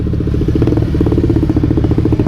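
A motorcycle engine idles loudly nearby at a second-hand bike market, its steady pulsing putter and mechanical clatter continuous throughout.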